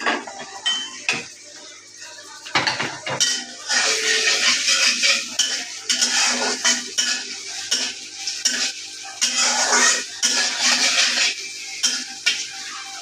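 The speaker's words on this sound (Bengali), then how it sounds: "এটা একটু হালকা করে একটু ভেজে নিতে হবে আর কি পেঁয়াজটা" Onions and green chilies fry in hot oil in a pan for noodles, with a soft sizzle under repeated scraping and clinking stirs of a utensil against the pan, loud and close.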